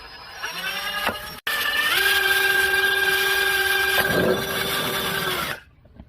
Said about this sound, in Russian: Сверлю отверстие для выхода.